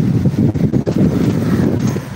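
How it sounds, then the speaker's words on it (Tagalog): Strong wind buffets the microphone, a loud, continuous low roar with brief dips, and no voices present. "malakas yung hangin."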